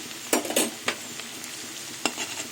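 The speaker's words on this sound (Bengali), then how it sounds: "রসুনের কাঁচা গন্ধটা চলে যাওয়া অবধি নাড়বো" Garlic and potatoes frying in a pan for an okra curry, being stirred, with a few sharp scrapes of the spatula over a soft steady sizzle.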